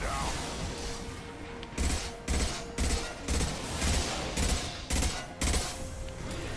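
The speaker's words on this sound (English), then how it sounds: "I'm literally just gonna shoot every freaking bullet I have at it and just hope" Rapid rhythmic gunfire in Mass Effect Legendary Edition, a steady run of punchy shots spaced roughly half a second apart over continuous combat noise, with no voices.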